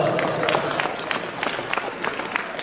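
Crowd applause for a youth football team at a tournament award ceremony for Górnik Łęczna, dense steady clapping filling the whole stretch at moderate loudness.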